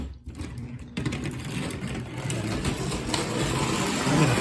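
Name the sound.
Lionel model train running on track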